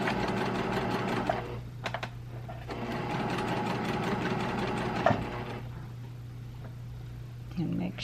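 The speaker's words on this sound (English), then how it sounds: "now I'm going to sew 1/8 of an inch, opening the seam up on either side of that" A sewing machine stitches a bra seam an eighth of an inch wide, its rapid mechanical whir running in steady bursts with brief pauses, close and loud.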